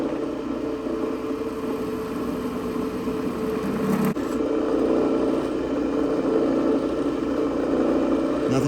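Power drill boring holes into a metal part for a customized Harley-Davidson EVO FatBoy motorcycle, a steady close whirring grind that breaks off briefly midway and then carries on.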